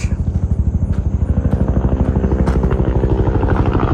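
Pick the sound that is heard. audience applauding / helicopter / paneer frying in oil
helicopter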